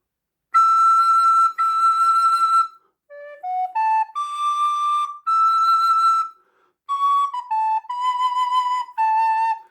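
Descant recorder playing alone in a slow melodic phrase of clear, steady, bright notes. Several notes are held long and others step quickly, with short breaths and silences between the phrases.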